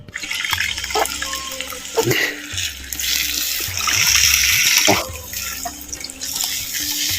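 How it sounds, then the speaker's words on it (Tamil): Water pouring steadily into a pot of kodo millet rice, a close, continuous splashing stream with brief pauses and gurgles as the pot fills. "இதே கோப்பையில் ரெண்டு கோப்பை பச்சை தண்ணி வந்து சேர்த்துக்குவோம்"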